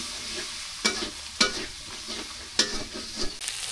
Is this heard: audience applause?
no